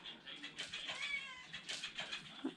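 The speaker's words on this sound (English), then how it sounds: "I'm already shouting over the kitten because I'm not sure what she wants." A kitten meowing insistently indoors, a quick series of thin high-pitched mews and short cries, close and fairly loud, with no talk.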